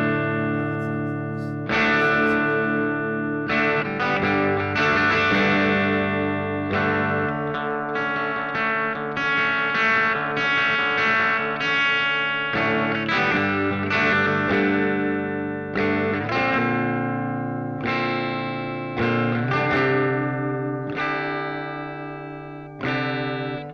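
Electric guitar through the AC Boost amp model on a Spark 2 amplifier, lightly distorted, playing sustained chords and single notes continuously with steady loudness and no talking.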